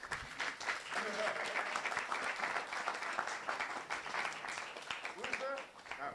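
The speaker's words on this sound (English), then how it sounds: "Round of applause, please." A conference audience claps in a steady round of applause, dense and even, while voices and brief cheers rise through the clapping.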